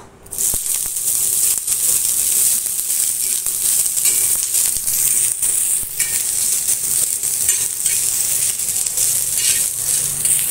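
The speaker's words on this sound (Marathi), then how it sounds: "आता आपलं तेल तापलेलं आहे। आता आपण कोबी घालून घेऊया।" Shredded cabbage hits hot oil in a pan and sizzles loudly and steadily throughout, a continuous bright hiss with a few faint scraping stirs, no voices.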